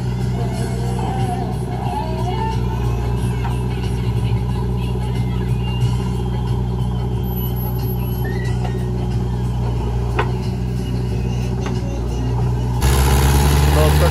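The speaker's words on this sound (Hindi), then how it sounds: "ट्रैक्टर चल चुका है" A loaded Mahindra 575 DI tractor labours along a bad road, its engine droning in a steady low rumble close by, with a heavier surge in the last seconds.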